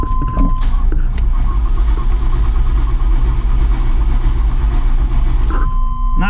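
A Chevrolet C10 stepside lowrider pickup, powered by a battery charger on start mode, churns with a loud, steady mechanical drone throughout, with a brief thin whine at the start and end.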